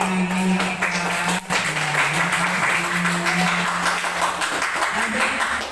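A class claps together, a continuous busy patter of many hands, with a steady low hum and some voices underneath.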